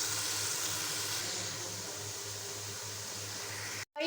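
Masala paste of chilli and garlic cooking in oil sizzles in a steady, even hiss that runs throughout, close and moderately loud, cutting out abruptly just before the end.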